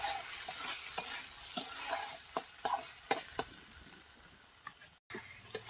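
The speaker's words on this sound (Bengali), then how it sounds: "এবার ভালো করে ভেজে নেব" Half-boiled potatoes fry in hot oil with a soft steady sizzle while a utensil stirs them, scraping and clicking against the pan in irregular taps, close and fairly quiet.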